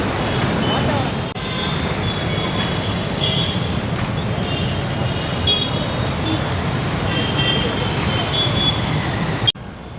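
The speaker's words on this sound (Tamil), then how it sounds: "நீங்கள் இப்போ பார்க்குறது பரபரப்பான சென்னை டிராஃபிக்." Busy Chennai city traffic at night forms a dense, steady roar of engines and rolling vehicles close by, with occasional squeals and horn-like tones; voices are faintly heard within the din.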